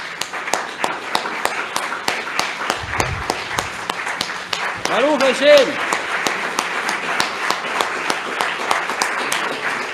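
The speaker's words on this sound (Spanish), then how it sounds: "Vamos a darle un aplauso al Eterno." A synagogue congregation claps together at a Shabbat service, a busy patter of hands under a voice leading the room, with a short spoken phrase partway through.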